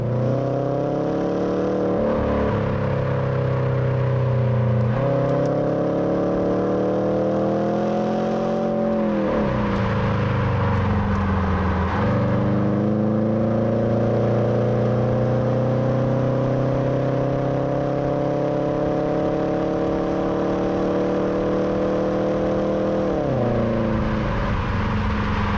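A Subaru Exiga seven-seat MPV accelerates hard through several gears, the engine note climbing steadily and dropping at each shift, loud and continuous from inside the car.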